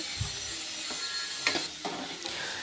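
Onions with turmeric and green chili paste frying in oil in a home kitchen pan, a steady sizzle broken by a few scraping stirs and clicks, close and moderately loud, with no voices.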